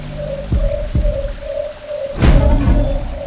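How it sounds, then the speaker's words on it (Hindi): A bird calls in a fantasy forest, giving a steady run of evenly spaced, mellow hooting notes, clear and fairly loud, with a low thud and a whoosh partway through. "ये पक्षी तो निशाचर पक्षी नहीं?"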